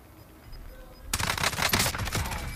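Gunfire in the video game Call of Duty Warzone, a sudden burst of rapid automatic shots that starts after a quiet second and rattles on close and loud.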